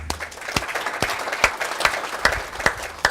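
Audience applause at a business breakfast event, with several sharp claps above a steady patter from a modest crowd, fairly close, lasting a few seconds.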